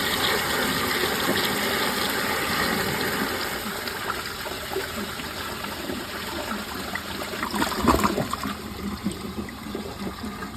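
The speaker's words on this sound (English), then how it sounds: "Now I clogged the vacuum assisted hole, so now it should siphon. And it's flushing at the water line first." Glacier Bay Powerflush round toilet with its vacuum-assist hole blocked, flushing by siphon: a steady, close rushing and gushing of water that swells around the middle and then trails off into trickling.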